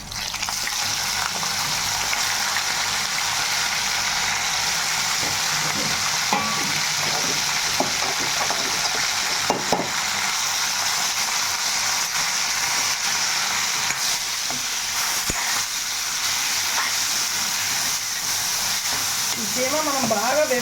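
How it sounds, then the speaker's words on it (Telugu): Chicken keema fries in a hot pan for keema pulao, a loud, dense and continuous sizzle that stays level throughout, with a brief voice near the end. "వేగుతున్నాయి కదా ఇప్పుడు కీమా అనేది వేసుకోవాలి"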